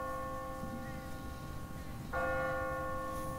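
A church bell tolls automatically on a timer in The Walking Dead video game, a steady ringing tone that swells louder partway through and sustains against a noisy ambient background.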